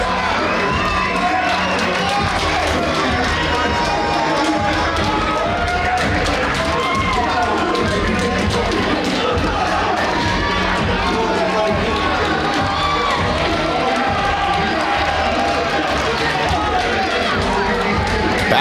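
A capacity crowd at a professional wrestling show in the Kansas City, Kansas National Guard Armory keeps up a continuous roar of cheering and chatter, with a commentator talking over it.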